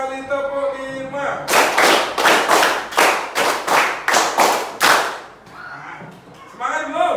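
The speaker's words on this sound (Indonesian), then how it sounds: "2 kali tepuk 5." A steady run of about ten sharp hand claps in an even counted rhythm in a classroom, loud and close, with voices before and after.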